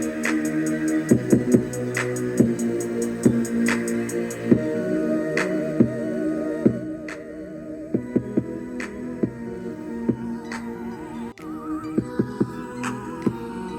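Music plays at high volume from a Bass Jaxx Sound Rebound wireless speaker, with steady beat-driven percussion hits and sustained tones. The sound is fairly bright and close with little low end, and no one speaks over it.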